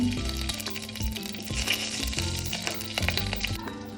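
Green chillies and cumin fry in hot oil for a lentil soup, producing a continuous crackling sizzle with occasional stirring knocks, close and fairly quiet, with no talking.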